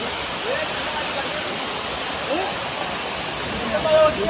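A waterfall near Badlapur roars steadily at close range, a constant dense rush, with faint voices underneath.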